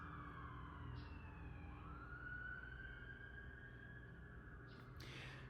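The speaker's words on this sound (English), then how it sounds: "I'm just waiting for the sirens to pass." A distant siren wails and glides in pitch over low traffic rumble, continuous and fairly faint throughout.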